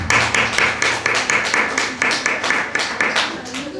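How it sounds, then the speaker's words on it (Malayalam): An audience at an evening community family gathering claps in a brisk, even rhythm of about four claps per second, loud and close, for the whole stretch. "Give A big clap."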